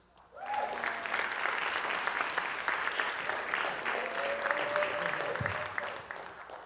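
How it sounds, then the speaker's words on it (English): Audience applause for comedian Noah Wax at a game show taping, a sustained dense burst of clapping from a crowd that starts abruptly and carries evenly for several seconds before easing slightly. "big round of applause for Noah Wax"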